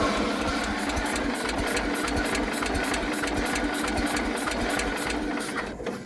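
An old Toro lawnmower engine runs roughly and rapidly at close range, a steady buzzing, knocking chatter that holds for several seconds before fading slightly at the end.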